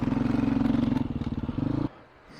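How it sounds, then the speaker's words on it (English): A 540-pound Honda Africa Twin motorcycle climbs a trail near Colorado Springs, its engine thudding in a loud, steady rhythmic pulse with clattering over rough ground, then cutting off abruptly near the end. "Tommy chucked right up it and left me behind. On a 540-pound motorcycle."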